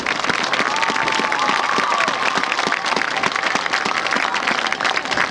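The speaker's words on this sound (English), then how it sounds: "Let's have a nice round of applause for all of them." A crowd at a 1996 high school football game between Du Quoin and Chester applauds senior players and cheerleaders, dense continuous clapping from the stands with scattered cheers, loud and sustained for several seconds.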